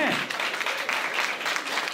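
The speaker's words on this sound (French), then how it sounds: "On peut l'applaudir, effectivement." An audience at a 2025 awards ceremony claps for an honoree, a dense, even burst of many hands that stays loud and steady for the whole moment.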